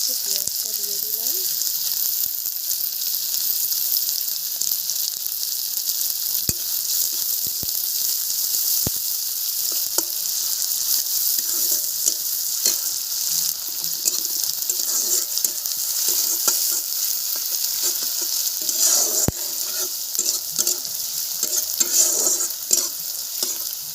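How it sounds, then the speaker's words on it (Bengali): Onions hiss and sizzle steadily in hot oil at the start of a Bengali crab curry, a continuous close frying crackle with occasional stirring clatter and a few faint voices. "তেল গরম হয়ে গেছে, পেঁয়াজটা দিয়ে দিলাম।"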